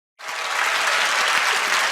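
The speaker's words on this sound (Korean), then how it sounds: "이런 박수는 정말 처음 받아봅니다" A church congregation bursts into loud, dense applause all at once, sustained clapping filling the hall without letup.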